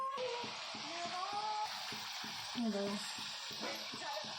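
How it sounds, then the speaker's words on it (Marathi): Kadakani snacks deep-frying in hot oil, a steady dense sizzle that runs throughout, with a voice speaking over it. "आता कडाकणी तळायचे हे बघा तेलात एक एक टाकून परत असं उलटंपालटं करून तळून घ्यायचं"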